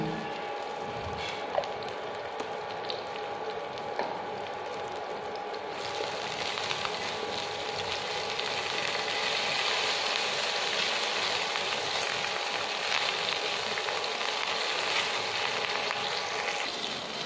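Green chilies and a pinch of asafoetida hit hot oil in a tadka with Byadgi red chilies, a soft hiss that jumps into a louder, steady crackling sizzle partway through and holds up close.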